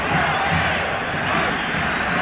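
Dense, sustained roar of a crowd of over 40,000 cheering at an Oakland A's baseball stadium during a Red Sox game, loud and continuous throughout.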